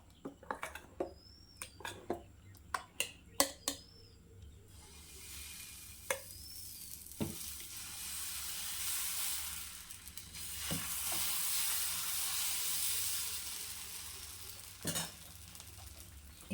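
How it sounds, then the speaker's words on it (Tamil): Tomato dosa batter is poured onto a hot pan after a few sharp clinks and taps, then hisses and sizzles in a soft, steady wash that fades and swells, with occasional utensil knocks. "வாங்க, பேன் சூடாயிடுச்சு. நம்ம கலக்கி வச்ச தக்காளி தோசையை ஊற்ற போகிறோம்."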